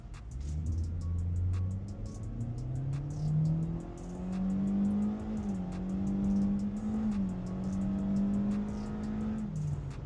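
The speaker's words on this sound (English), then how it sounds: "there's a bit more engine noise here in the passenger compartment" A 2025 Kia K4 2-liter GT-Line's engine drones from inside the cabin under heavy load, its pitch climbing steadily as it accelerates, with a brief dip like a gear change partway through.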